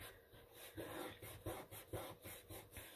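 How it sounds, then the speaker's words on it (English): Paper being rubbed and burnished down onto another sheet of paper for Christmas junk-journal ephemera, a quiet close rhythmic rasping of repeated back-and-forth strokes, faint, with no talk. "Sort of burnish it down really well so it adheres to that paper really well."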